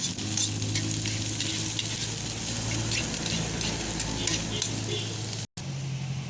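Garlic and onion sautéing for ginisang munggo, a continuous close sizzle with light patter and occasional stirring clicks, a steady low hum beneath and a brief dropout near the end.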